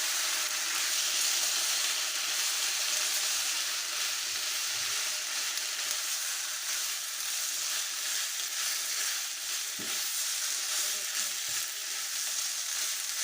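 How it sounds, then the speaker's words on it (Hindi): Chicken and vegetable sandwich filling, just seasoned with soy sauce, sizzles in a pan while being mixed: a continuous, even hiss of frying with only faint, occasional stirring sounds beneath it. "1 टीस्पून ही हम इसमें सोया सॉस शामिल करेंगे और इसको हम अच्छी तरह मिक्स करेंगे"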